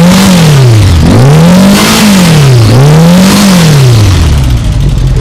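A vintage Honda GoldWing motorcycle engine runs loud and close just after start-up, its pitch rising and falling in repeated even revs before settling toward idle.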